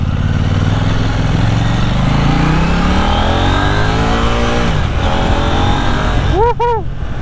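A 2023 KTM Duke 890 Super Scalpel motorcycle accelerates hard and loud, its engine note climbing steadily through the revs with a brief shift break, close to the rider, ending in a quick pair of sharp revving blips.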